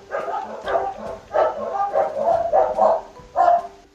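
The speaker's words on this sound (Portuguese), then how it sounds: "eu tô falando e eles continuam latindo" Dogs bark repeatedly at close range, several sharp barks in uneven bursts with short yips between them and no talk over them.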